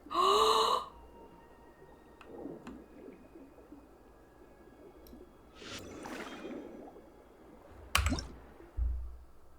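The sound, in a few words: underwater diving sounds in video game Genshin Impact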